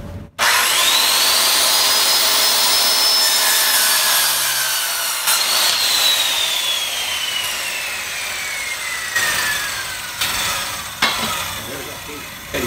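A hand saw cuts through wood for a barn owl nesting box, a continuous rasping stroke sound close up with shifting tone as the cut progresses, ending with a few knocks.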